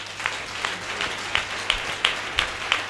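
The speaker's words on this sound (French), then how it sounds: "Je voudrais qu'on puisse acclamer fort Seigneur" Rhythmic clapping from a church congregation acclaiming the Lord at a closing apostolic event, with regular, evenly spaced claps in a steady beat.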